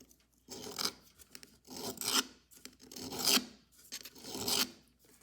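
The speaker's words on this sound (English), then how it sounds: "So you're gonna take a diamond file" A diamond file rasps on the metal winding crank gear of an Edison Gem phonograph, four distinct close strokes, each a gritty scraping burst separated by short pauses.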